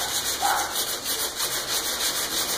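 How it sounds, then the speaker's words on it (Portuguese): Hand sanding of car body filler with a rigid rubber block and 80-grit paper, a continuous close scratchy rubbing with a quick back-and-forth rhythm. "A primeira é com esse taco de borracha rígido e uma lixa 80."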